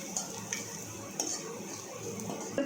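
Rice being mixed with salt and chilli powder in a metal vessel, soft repeated scraping and clinking of a spoon at an uneven pace over a faint background hiss, close and without talk.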